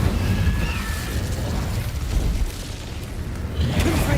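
A fire spell cast in Hogwarts Legacy erupts as a loud, sustained whooshing blast with crackling bursts, dense and near throughout without speech.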